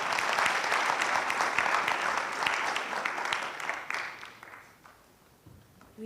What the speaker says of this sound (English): a round of applause for this excellent panel